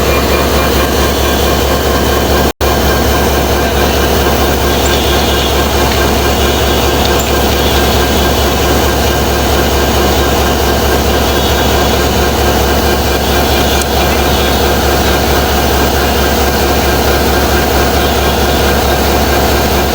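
A long, heavy Bangladeshi train engine idles on line 3 at Joydebpur railway station, a loud, constant low rumble and hum that stays unbroken apart from one brief dropout.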